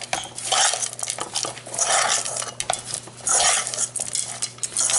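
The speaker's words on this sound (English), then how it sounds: "So you want to just give this a stir." Chopped nuts are stirred in a bowl in a home kitchen, a spoon scraping and clinking against the dish in two or three bursts of busy mixing, close and fairly loud, with no talking.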